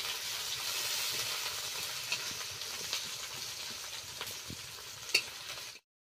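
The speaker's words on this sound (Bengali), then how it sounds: "পেঁয়াজটাকে এবার লাল লাল করে ভাজবো।" Chopped onion with a split bay leaf frying in hot oil until reddish-brown for a fish curry, giving a steady close hiss and crackle with a few sharp pops and stirring clicks throughout.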